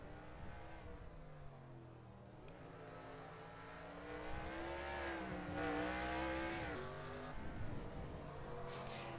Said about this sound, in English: Zeke Marley's just got an insanely fast car right now